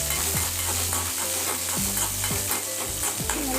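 Bitter gourd sautéing in a pan, a steady close sizzle broken by repeated scraping stirs of the spatula, loud and continuous with no voices.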